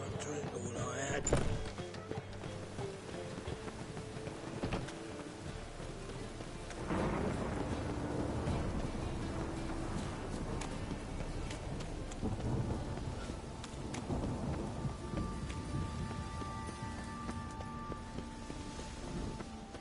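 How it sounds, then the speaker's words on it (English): Rain falls steadily in The Witcher 3 while thunder rumbles, with a sharp crack early on and rolling low booms afterward, quiet overall beneath occasional game dialogue. "A storm, damn it."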